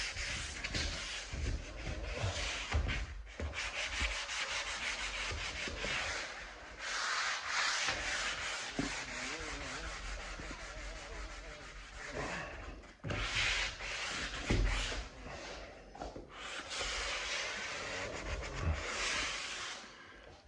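Steady scratchy rubbing of hand sanding on wood trim, continuing in long back-and-forth strokes with brief pauses, close up and moderately loud.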